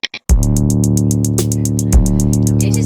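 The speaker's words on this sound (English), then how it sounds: "First real, I would consider it a beat that I made" A homemade music beat plays back loud and steady, a sustained tonal bed with rhythmic pulses across nearly three seconds after a brief opening blip.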